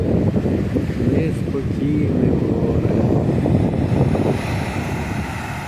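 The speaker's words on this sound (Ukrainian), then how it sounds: "І вітер, вітер з моря, ух, сильний вітер" Strong sea wind buffets the microphone in a steady, loud low roar, with some faint boat or water noise underneath and no speech.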